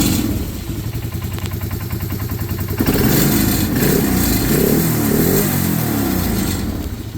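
A John Deere ATV engine, revived after sitting dead and started with the choke on, runs close by with a loud, steady mechanical idle and clatter that rises slightly in intensity partway through.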